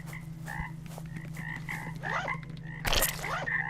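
Frogs croaking in a fishing video game: a quiet series of short, repeated croaks at irregular intervals over a low steady hum, with a brighter burst near the end and no talking.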